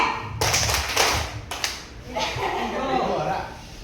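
A group claps together in a quick rhythmic pattern, with voices chanting and calling out over the claps.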